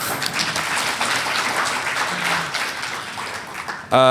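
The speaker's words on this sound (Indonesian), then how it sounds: "Mungkin kalau ini mohon tepuk tangan Bapak Ibu sekalian." An audience at a digital innovation award event in Indonesia applauds, a dense, steady wash of clapping that ends abruptly as a voice or music begins.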